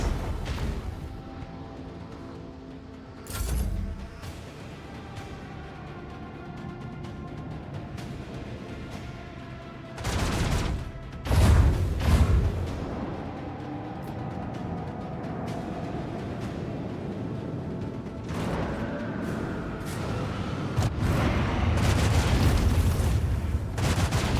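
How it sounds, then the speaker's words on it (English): Starship torpedo fire and impacts in the Warhammer 40K video game Rogue Trader: a few heavy booms and blasts stand out at intervals over a low, droning ambient hum. "And I'll fire the starboard on those torpedoes."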